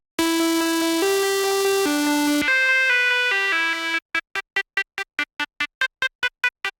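A bright synth melody shaped with harsh EQ and an odd sidechain effect: several sustained buzzy notes step through a short phrase, then give way to rapid pulsing chopped stabs, loud and close.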